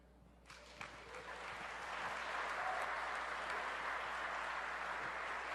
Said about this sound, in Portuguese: Pode ser melhor esse aplauso.